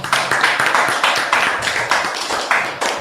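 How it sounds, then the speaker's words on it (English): A group claps hands together at a gathering in Harlem, a steady run of sharp, close claps with slight unevenness between hands, loud and without talk. "let's clap it up"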